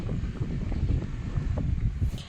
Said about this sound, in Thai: อุ้ย ลม